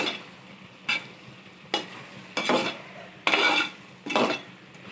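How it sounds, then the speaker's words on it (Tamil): Chicken curry with masala powder is stirred in a pot: a soft bubbling sizzle runs underneath while five sharp scrapes and clanks of the spoon against the metal recur at roughly regular intervals. "போட்டு நல்லா கிளறி"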